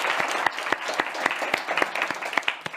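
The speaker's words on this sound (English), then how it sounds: "Give him a big round of applause." An indoor audience at a company meeting gives a round of applause, a dense, even patter of many hands clapping steadily throughout.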